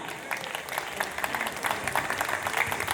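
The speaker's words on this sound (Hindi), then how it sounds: "जोरदार तालियां" Applause for a teacher at a school reunion, steady clapping from a gathered crowd held at a moderate level throughout with faint voices mixed in.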